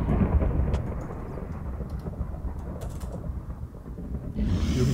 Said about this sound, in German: dann treffen dich die Blitze gleich wieder